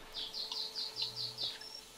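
Alien birds in No Man's Sky give a rapid series of about seven bright, buzzy chirps in an even rhythm, fairly close and loud, over a quiet low hum.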